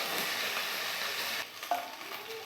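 Ginger garlic paste frying in a pan, a steady sizzle that drops abruptly partway through, followed by a utensil clink and softer scraping of stirring, close and quiet, no voices.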